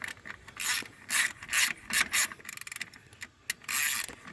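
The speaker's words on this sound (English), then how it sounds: "I just put them on there, snug them up." A ratchet snugs up the alternator bolts on a 2004 Ford Ranger 3.0, giving several short bursts of rapid clicking and rubbing with brief pauses, close by and without talk.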